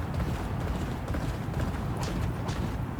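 Horse hooves gallop in a rapid, steady clip-clop during a video game horse race, loud and continuous throughout with a dense broadband rumble and no voices.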